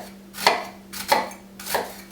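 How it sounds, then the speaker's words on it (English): A knife slicing through an onion on a cutting board, three distinct close strokes about half a second apart, each a crisp cut ending in a soft thud on the board. "So I'm going to make my 4 or 5 slices"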